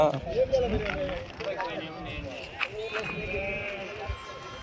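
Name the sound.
sheep bleating at a sheep market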